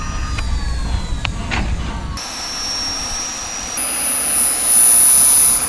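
Two small turbojet engines mounted on a bicycle roar with a piercing high whine that jumps sharply louder after a quieter rumbling start, then holds loud and close.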